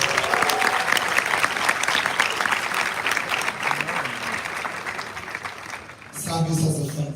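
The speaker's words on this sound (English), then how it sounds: "Another round of applause for the director of Sabas." A debate championship audience gives a round of applause for the director, with dense, sustained clapping that fills the hall and ends in a brief pause before a fresh burst of noise.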